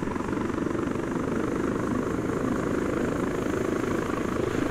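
Steady, continuous whine and rotor drone of an MH-9 helicopter engine in a video game mod, loud and unbroken for the whole stretch with no talking.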